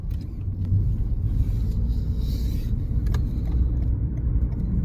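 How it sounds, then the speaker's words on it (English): A truck rumbles past nearby and turns, a steady low roar that swells and holds throughout, heard from inside a car. "Okay, right after this truck. Oh, the truck is turning."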